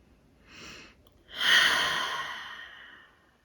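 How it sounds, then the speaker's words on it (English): Slow, deep breathing during a guided relaxation: a soft inhale followed after a pause by a longer, fuller exhale that fades out gradually, close and quiet with no talking. "Deep inhales all the way down into your belly, and deep exhales."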